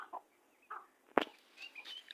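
A mother hen with chicks gives a few soft, quiet clucks, with one sharper, louder call near the middle, against a still, near-silent background.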